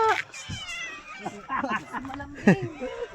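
A cat meows several times, close and clear, while people talk over it during an outdoor walk.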